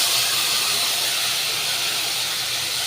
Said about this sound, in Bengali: গ্যাসের ফ্লেমটা লো করে দিয়ে এইবার আমি মশলাটাকে দিয়ে দিলাম